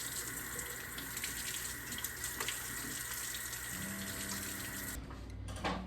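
Tap water runs steadily into a pot to rinse rabbit meat, a continuous splashing rush that shifts in tone near the end as the flow changes, then stops.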